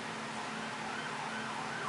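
A distant ambulance siren wails faintly outside, its rising and falling tone barely standing out from a steady background hum.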